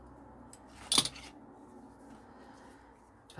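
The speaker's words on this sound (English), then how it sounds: "In fact, we'll cut those" Sharp scissors snip through doubled fabric in one crisp, bright cut near the start, followed by faint handling rustle and a soft click at the end, close and otherwise quiet.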